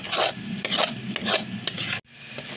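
Spice masala for a pointed gourd (parwal) kalonji is stirred and fried in a pan, with a spoon scraping in about five rhythmic strokes over a soft sizzle, close up and with no talk.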